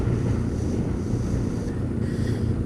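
Wind near open water where people are windsurfing, a constant rushing roar buffeting the microphone throughout, with no voices.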